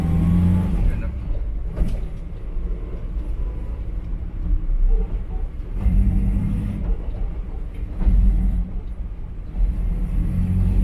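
Gearbox noise from a Morris Minor on a road test: a loud, steady low drivetrain rumble inside the car that swells and eases in slow waves as it drives.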